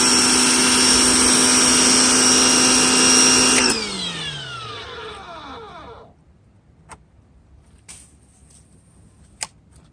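A Portland electric pressure washer motor hums loudly and steadily, then winds down over a couple of seconds into near silence broken by a few faint clicks.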